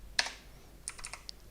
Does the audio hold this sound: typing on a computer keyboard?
yes